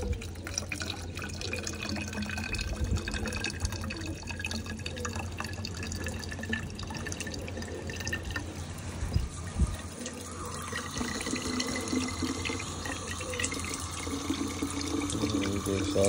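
Tap water runs steadily into a bottle, a continuous splashing stream with a few drips, close by and alone without talk, while the pitch shifts higher partway as the bottle fills.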